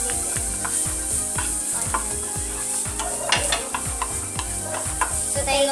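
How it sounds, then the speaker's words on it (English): Butter, garlic and onion sizzle steadily in a pan while a utensil scrapes and stirs in repeated rhythmic strokes, close and continuous with no talk. "Now we will melt our butter. And we will put now the garlic"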